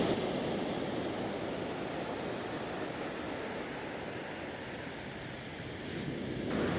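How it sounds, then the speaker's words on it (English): Powerful ocean surf after a hurricane rolls onto the beach along the Puerto Vallarta malecon, a continuous broad roar of crashing waves mixed with wind buffeting the microphone, with no voices. "the waves right here as it stands aren't the biggest I've seen, but they are coming up quite high."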